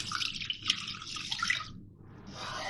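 About 250 ml of water poured onto sugar to make syrup, a close splashing, trickling pour that pauses briefly and then resumes.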